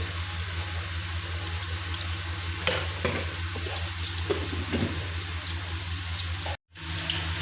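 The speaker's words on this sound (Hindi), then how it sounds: "घी हम गरम करके तो उसमें प्याज डालते हैं" Onion paste fries in hot ghee with a steady sizzle, broken by a few louder stirring scrapes and clatters and a brief dropout near the end.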